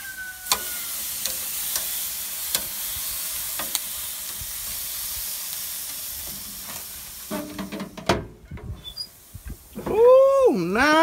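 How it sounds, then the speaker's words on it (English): A thin carne asada steak sizzles on a grill with a steady hiss and occasional faint pops. Near the end it gives way to clattering handling noises and a brief whistling, warbling tone. "Just lay them out flat, and they'll cook very fast because it's such a thin steak"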